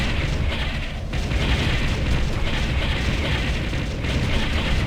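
Explosions and rumbling blasts from destroyed enemy structures in the real-time strategy game Ground Control, a dense, continuous roar of booms with low rumble, loud and sustained throughout without any voices.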